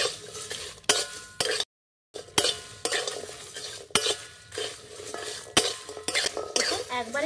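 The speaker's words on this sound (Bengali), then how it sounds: "আর একটু আমি নাড়াচাড়া করবো, আর অনবরত কিন্তু নাড়তে থাকতে হবে" Garam masala spices are stirred while dry roasting in a pan: a utensil scrapes and clinks against the metal in repeated strokes, with faint sizzling underneath and a brief silent gap partway through.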